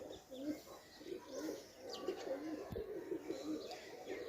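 Pigeons at a busy pigeon market coo in soft, repeated low rolling calls, several overlapping nearby against a murmuring background.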